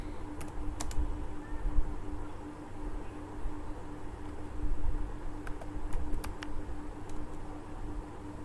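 Keys tapped on a computer keyboard while ad text for a big sale is entered, light clicks scattered over a steady background hiss and low hum, with no voices.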